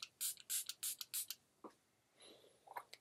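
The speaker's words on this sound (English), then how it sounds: "I'm just gonna spray my face and see if I can kick up the intensity of this highlighter" Several quick hissing bursts of Milani Make It Last setting spray misting onto a face, close and soft, followed by faint rustling and a few light handling sounds.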